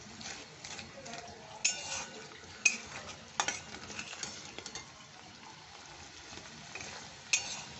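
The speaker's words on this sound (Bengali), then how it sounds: "এই পাতাটা দিয়েও তো একটু ভালো কষতে হবে, না হলে কাঁচা কাঁচা গন্ধ বেরোয়" Coriander leaves being sautéed for a katla fish curry: a quiet, steady frying sizzle with a spoon stirring and scraping the pan, including a few sharper clinks of metal against the pot.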